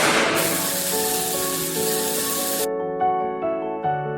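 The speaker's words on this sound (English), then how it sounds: "Demonstration of pepper spray and electric shock." A TX200P device discharges pepper spray and then an electric shock, starting with a strong continuous hiss that stops abruptly. Tonal electronic beeps follow alone, with a few short pulses toward the end.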